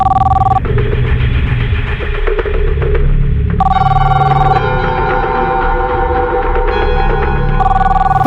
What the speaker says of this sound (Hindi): पता है किसका फोन है?